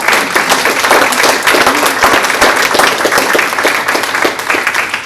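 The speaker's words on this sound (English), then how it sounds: "How about a nice round of applause for this folks?" A round of applause for city council candidates at a Murrieta candidates forum, steady dense clapping from a sizable audience, loud and continuous throughout with no voices over it.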